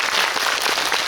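Audience applause in a cinema auditorium during a guest visit screening event, a dense steady burst of clapping filling the room for about a second, with no voices over it.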